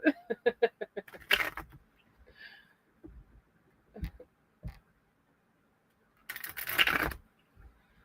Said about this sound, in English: my deck won't even shuffle